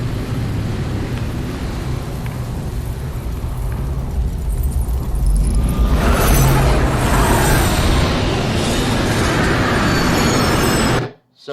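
A train rattles steadily along the tracks, loud and close, with dense low rumble that thickens midway before cutting off abruptly at the end.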